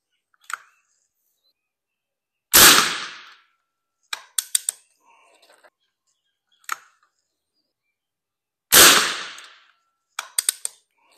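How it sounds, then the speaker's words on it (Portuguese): A PCP air rifle charged to 200 bar fires 5.5mm pellets with two sharp, loud cracks several seconds apart, separated by fainter mechanical clicks from cocking and loading in otherwise quiet surroundings. "Olha, quatro disparos bem bacana."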